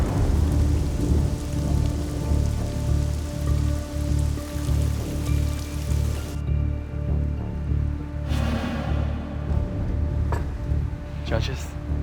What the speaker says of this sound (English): the skies have opened, the rain is falling, and the thunder may be shortly following